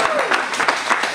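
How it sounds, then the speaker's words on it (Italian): A group of people clap loudly and close by during a gym endurance session, with a voice talking over the applause. "ragazzi, un applauso."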